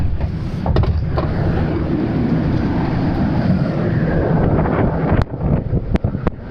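Gale-force wind roars against the microphone on the outer deck of a cruise ship sailing from Finland to Sweden in a storm, a loud continuous rumble with sharp gusts and buffeting knocks near the end.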